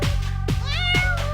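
A cat meows loudly and close by, giving three drawn-out meows in quick succession over a steady low hum.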